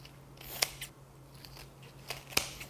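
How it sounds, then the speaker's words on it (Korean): Kitchen scissors snip through soaked dried pollock, two sharp distinct cuts with softer handling rustles between them, close and fairly quiet with no talk. "가위로 이렇게 자르세요"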